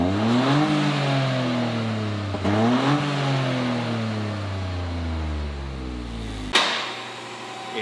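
A 2023 Toyota GR Corolla fitted with a new FI exhaust revs repeatedly, its engine note climbing and dropping in smooth sweeps, loud and close, then cutting off sharply near the end.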